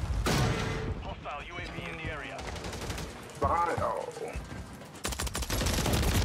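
Gunfire in the multiplayer shooter Call of Duty MWIII, with bursts of rapid automatic shots crackling under and between excited voices, loud and close, with a dense burst near the end.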